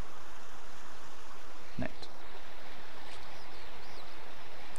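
Steady rushing flow of water in Skyrim SE, a continuous even wash heard throughout, with a voice briefly speaking over it.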